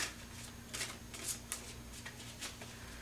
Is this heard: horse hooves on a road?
no